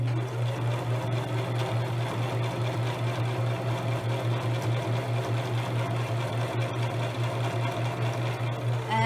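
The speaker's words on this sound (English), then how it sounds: "I'm going to continue to stitch all the way down." A sewing machine runs a continuous line of stitching down the edge of napkin fabric, a steady, even mechanical whir at close range with no pauses.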